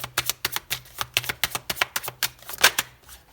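Tarot cards being shuffled and drawn, giving a quick, steady run of soft crisp flicks and taps, close and quiet, with no voice.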